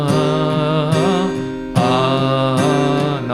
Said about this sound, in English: I'm strumming the lower strings of the G and slowly getting to